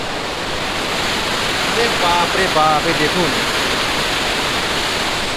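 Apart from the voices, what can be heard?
water rushing down at Gajoldoba barrage on Teesta river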